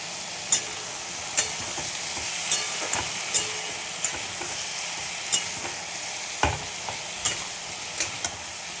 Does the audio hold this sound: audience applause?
no